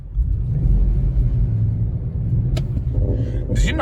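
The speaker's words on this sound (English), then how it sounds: "I'm going to reverse aggressively." Infiniti FX50 with bald tires reversing aggressively in snow with stability control on, a loud close engine rumble holding steady, with a few sharp knocks and scrapes near the end.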